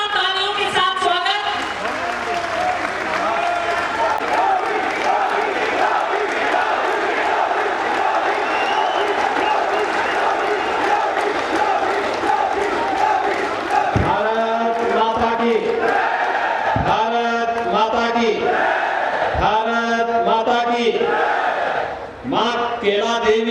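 Loud crowd applause and cheering greet Chief Minister Yogi Adityanath at a public event for project inaugurations in Sambhal, with sustained clapping throughout and some rhythmic bursts near the end.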